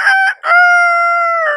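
A human voice imitating a rooster crowing, a loud close cock-a-doodle-doo with a short broken opening and a long sustained wavering note, performed alone.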